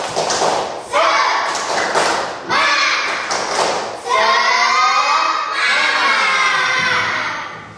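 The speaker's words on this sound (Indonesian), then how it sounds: "mari kita semangat dulu untuk mengikuti materi dengan tepuk semangat" Schoolchildren in a primary-school classroom perform a rhythmic clapping chant, with loud bursts of unison claps and shouted chant phrases in repeated short phrases lasting several seconds.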